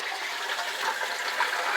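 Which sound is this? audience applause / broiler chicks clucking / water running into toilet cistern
water running into toilet cistern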